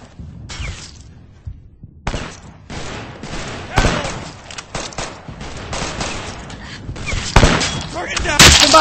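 Gunfire rattles through a Vietnam War video game in dense bursts and fusillades, loud and close, with shouted voices breaking in amid the shooting.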